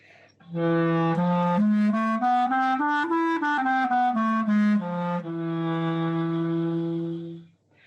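A single voice sings a rising then falling run of sustained notes in the freygish (Ahava Rabbah) scale, ending on a long held tone.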